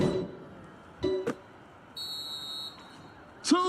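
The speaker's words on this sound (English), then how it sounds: "that's the final buzzer" The final buzzer sounds in the basketball video game Dunk City Dynasty: a sustained electronic tone in the middle of the clip, surrounded by short game sound effects and brief bursts of sound.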